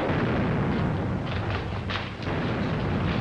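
Gunfire in a 1938 film set around a ship near Shanghai: dense, continuous roar of shots and booming blasts, loud and close, with overlapping bursts throughout and no voices.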